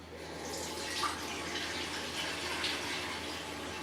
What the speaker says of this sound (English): Cover it with cold water,